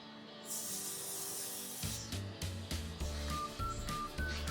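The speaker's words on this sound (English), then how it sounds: "And then you spray this chicken also with oil." Short hissing bursts of cooking-oil spray onto raw chicken on a wire rack over a baking sheet, ready for oven barbecue: one long spray, then a rapid series of brief, close spritzes.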